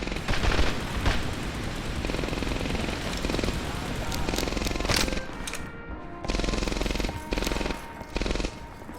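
MP40 submachine gun fire in the World War II shooter Medal of Honor Airborne: dense, loud bursts of automatic gunfire with booming impacts, broken by brief pauses, all through a busy battlefield mix.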